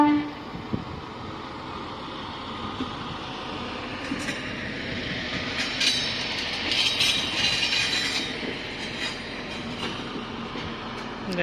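A railway track maintenance machine rolls along the rails near a level crossing, producing a steady rumbling clatter with faint tonal, horn-like notes rising in the middle of the passage.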